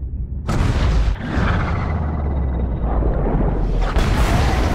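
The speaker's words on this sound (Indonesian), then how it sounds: "tiba-tiba kapal selam Rusia Konek mengalami ledakan" A deep, rumbling film explosion aboard a Russian submarine booms and rolls on with muffled, sustained roaring, followed by a second surge near the end.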